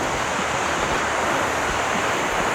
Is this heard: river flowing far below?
yes